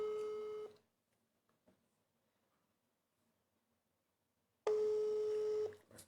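A telephone ringback tone sounds as a second number is dialled: two long steady electronic tones, each lasting about a second, separated by several seconds of near silence, clear and unaccompanied.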